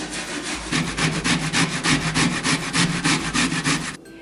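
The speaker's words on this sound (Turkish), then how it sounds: "Şimdi de kabakları rendeliyoruz. Yine rendenin ince tarafıyla." Zucchini is rubbed against the fine side of a grater in quick, regular rasping strokes, about a dozen close scrapes in steady rhythm before stopping.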